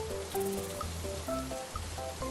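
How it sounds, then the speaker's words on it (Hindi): Rain falls steadily in a continuous wash of patter, joined by faint tonal background music, with no one speaking. "बारिश हो रही है तो होने दीजिए।"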